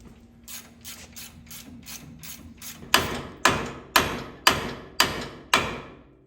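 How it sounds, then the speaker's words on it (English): Wrench or socket breaking loose a tie rod nut on a 1988–98 2WD truck during a lift install, a series of evenly spaced sharp metallic clanks that grow louder, about a dozen strikes in rhythm. "first we're going to remove the tie rod. Get yourself an 18mm socket or wrench and bust it."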